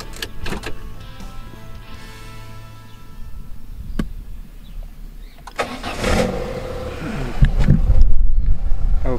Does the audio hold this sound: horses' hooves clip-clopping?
no